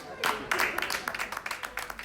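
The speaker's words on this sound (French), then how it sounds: "Les premiers clients, applaudis par le personnel" Post office staff clap for the first customers entering the reopened branch, a short burst of brisk applause close by, with some talk mixed in.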